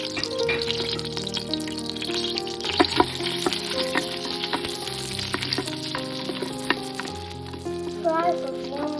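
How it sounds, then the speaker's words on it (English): Whole spices (cardamom, cloves and cinnamon) sizzle and crackle in hot ghee with a steady, close frying hiss, broken by a few louder pops and stirring clatters. "Put all the spices in the ghee."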